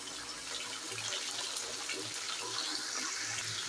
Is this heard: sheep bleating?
no